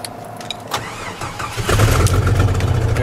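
A chainsaw engine sputters and cranks unevenly for a moment, then catches and settles into a louder, rough running idle nearby.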